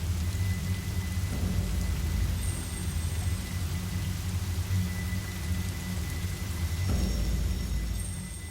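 Heavy rain pours steadily with deep rumbling thunder rolling through in Fatal Frame: Maiden of Black Water, a dense, continuous storm bed with faint tonal game ambience above and no voices.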